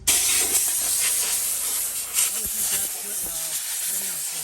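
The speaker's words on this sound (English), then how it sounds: "We're blowing the rims with the air because my blower down there ran out of battery juice." Compressed air blasts water off aluminum Toyota rims, a loud steady broadband hiss that runs throughout with slight surges, while someone speaks over it in the latter half.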